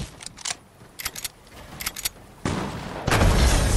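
Video game gunfire in short bursts of shots with quiet gaps between them, ending in a louder, sustained stretch of noisy firing; no talking is heard.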